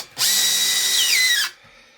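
A power drill set to a slower speed whines loudly and steadily into a hard rock slab for over a second, its pitch dropping slightly near the end before it stops abruptly, then quiet.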